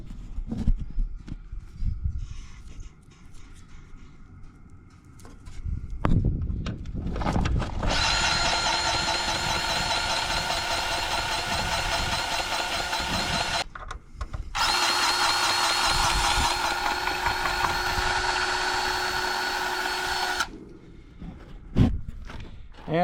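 Farm hay equipment roller bearings being greased with a grease gun outdoors, with clanks and handling knocks, then two long steady whirring stretches of a powered tool broken by a short pause, and scattered thumps at the end.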